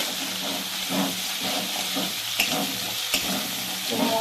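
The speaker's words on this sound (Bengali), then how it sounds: "ওটার সঙ্গে দিয়ে দেব ভালো করে আমি একদম ভেজে নেব" A ground paste of rice, melon seeds, poppy seeds and cashews fries in a pan, giving a loud, continuous close sizzle with a soft hiss and repeated stirring scrapes throughout.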